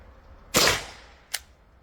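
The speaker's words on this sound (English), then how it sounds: "Let's test out one of these kinetic rounds with the P2P." A P2P less-lethal launcher fires a kinetic round: one sharp, loud crack, then a second shorter snap a moment later, close by with no talking.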